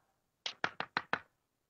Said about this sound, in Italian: Il lupo bussa alla porta.